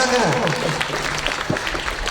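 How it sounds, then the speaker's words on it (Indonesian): Brief applause from students at a Catholic junior and senior high school assembly in Makale, Toraja, scattered claps sounding under a speaker's voice, fairly faint in a large room. "Tepuk tangan dulu dong"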